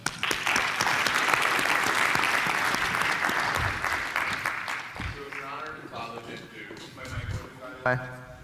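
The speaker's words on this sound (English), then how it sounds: "A round of applause for Dr. Chimes." An audience at a medical presentation applauds a speaker, giving a dense, sustained round of clapping that thins into scattered claps and a few muffled sounds toward the end.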